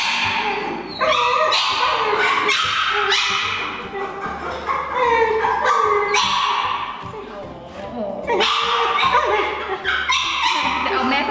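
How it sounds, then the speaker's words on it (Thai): A dog howling and whimpering close by in a home, a wavering high whine over continuous talking voices throughout. "ตูมก็เลยหอน"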